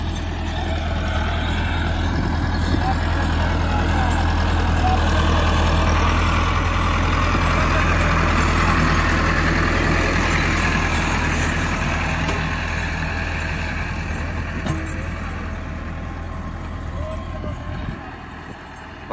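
A Massey Ferguson MF385 tractor engine runs steadily close by, a continuous low diesel rumble that holds even throughout, with no talk over it.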